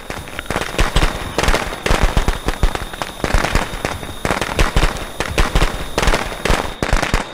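Rapid, crackling bursts of firecrackers going off in the Friday the 13th video game, a dense string of sharp pops in uneven clusters lasting several seconds, loud and close with almost no talk over them.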